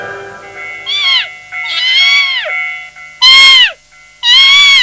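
A cartoon kitten gives four clear, loud meows in a row, each rising then falling, the later two louder and more strained, with no talk around them.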